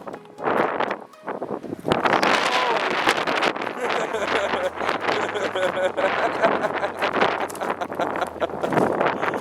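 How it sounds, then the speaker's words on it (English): Strong wind roars across a snowy hunting ground during Maine rifle season, a loud, steady buffeting with microphone rumble that holds through most of the stretch after a brief lull near the start. "It is horrendous wind."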